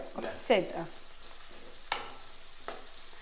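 Shallots and garlic fry in a pan in a village kitchen: a faint sizzle broken by a few brief scrapes and clinks of stirring, quiet and close.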